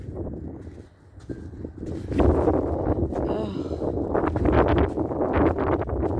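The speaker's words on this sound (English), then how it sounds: "Oh man, the wind is crazy." Strong wind gusts buffet the microphone in a loud, continuous roar that swells and surges, with a person speaking partway through.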